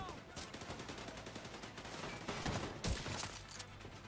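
Gunfire from a test shot in The Division 2, a rapid run of loud sharp reports with a heavier burst near the end, close and dominant with no voices over it.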